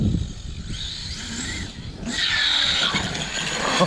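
A 30° North 5T RC truck runs nearby, its electric motor whining and rising in pitch as it accelerates, with tire scuffing and gravel noise beneath, fading briefly and then surging louder again.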